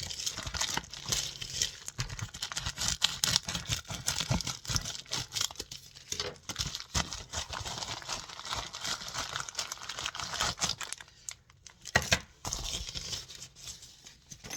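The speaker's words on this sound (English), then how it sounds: "let's get to opening this package." Continuous crinkling and tearing of packaging material, close and busy, with short pauses and rustles as a nail stamping plate order is unwrapped.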